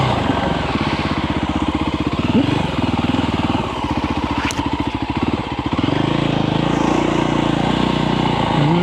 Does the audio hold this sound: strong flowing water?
no